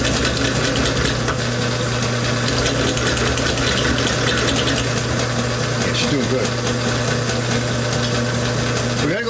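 A drill bit grinds steadily into a broken exhaust bolt on a Kohler Courage engine of a Cub Cadet lawn tractor, a continuous whining hum at constant loudness with someone speaking briefly over it.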